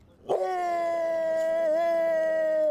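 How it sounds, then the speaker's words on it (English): A dog lets out one long, sustained howl that starts abruptly and holds a steady wavering pitch for over two seconds, loud and close with no other sounds. "Kind of like a dog that barks on cue."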